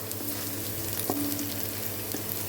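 Chopped onion hitting hot oil in a pan alongside garlic sends up a steady, close crackling sizzle with faint stirring scrapes, no voices over it.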